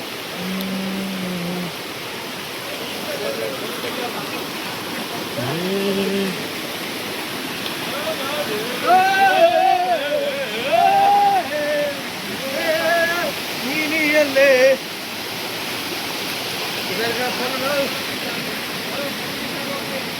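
A waterfall on the Kodachadri trek in Karnataka's rainy season roars with steady, dense rushing water from start to finish. Several voices call and talk over it in the middle.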